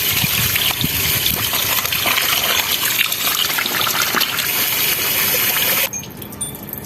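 Butterfly pea flowers being rinsed under running water for a homemade shampoo, with a loud, steady gush and splash close by that cuts off sharply near the end.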